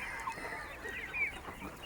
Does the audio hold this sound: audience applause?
no